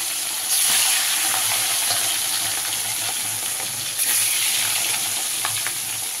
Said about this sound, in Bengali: তেল গরম হয়ে গেছে, আমি মাছ দিয়ে দিচ্ছি